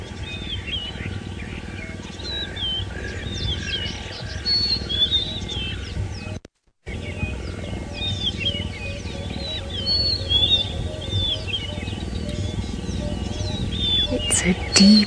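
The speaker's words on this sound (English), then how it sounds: "They're doing what none of the other big cats do, and that is purring." Deep, continuous low purring rumble from a cheetah, heard close, with birds chirping and calling over it and a brief dropout midway, during an early-morning safari drive.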